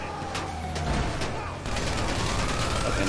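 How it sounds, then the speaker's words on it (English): Bursts of gunfire crackle and pop in rapid volleys during an online driving game near a cola truck, loud and continuous, with a steady hiss of game ambience underneath. "Okay, now I hear gunshots."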